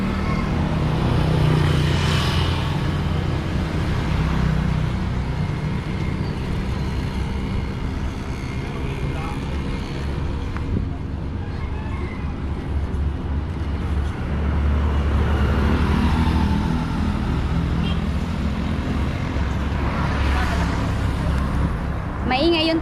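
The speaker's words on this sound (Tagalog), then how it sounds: "Maingay yung tricycle tsaka yung mga sasakyan bang nadaan." Motorized tricycles and cars roll past on a street in San Vicente, Philippines, a constant loud rumble of engines and road noise that swells and fades as vehicles go by.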